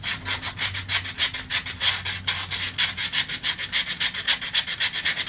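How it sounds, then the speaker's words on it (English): Sandpaper is rubbed by hand over a router-made wooden bowl shaped like a guitar pick, rounding over its edge. The strokes are quick and evenly rhythmic, close and scratchy, repeating back and forth without any speech. "I'm just gonna stick with some sandpaper, round it over just a little bit."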